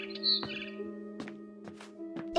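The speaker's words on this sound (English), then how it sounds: "Then I heard chirping outside my window." Barn swallow chirping outside a bedroom window at night in the video game What Remains of Edith Finch: several short, bright chirps spaced through the clip over a steady low hum, close and fairly clear.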